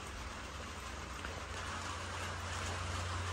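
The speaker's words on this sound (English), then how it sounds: "And it's raining right about now." Rain falling outdoors during work on a Porsche 944, a steady, even hiss of drops with a low rumble underneath, moderately quiet and without talk.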